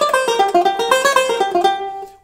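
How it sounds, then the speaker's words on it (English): Banjo playing a quick blues lick from the bar position blues scale, a rapid run of bright plucked notes with sharp attacks, close and loud with no talking. "is a really awesome blues lick that features playing the blues out of the bar position blues scale"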